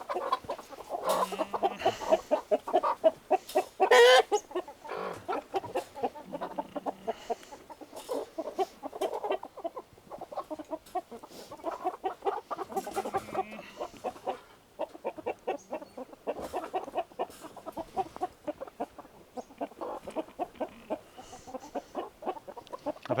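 Roosters cluck and squawk inside a crate, a busy, close run of rapid calls and flurries that keeps going throughout, sometimes louder bursts, with no speech.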